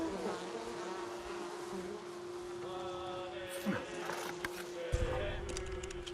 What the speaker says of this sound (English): Bees, huh?